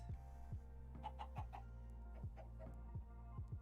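Chickens in Minecraft clucking in short, repeated bursts, several calls spaced irregularly over a low steady background hum, fairly quiet with no voices.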